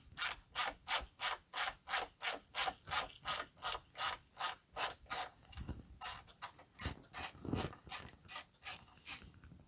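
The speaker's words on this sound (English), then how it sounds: "we're going to go ahead and remove this bottom screw" A hand ratchet clicks in a quick, even rhythm while backing out a 10mm OEM screw under a Toyota Tacoma. It makes a long run of close, crisp clicks, a short pause, then more bursts.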